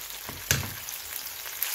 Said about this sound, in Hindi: इसमें शामिल करते हैं प्लम्स, ड्राई प्लम्स, और इसको थोड़ा बहुत हिलाते हैं ताकि थोड़ा सा ये आलू बुखारा नरम हो जाए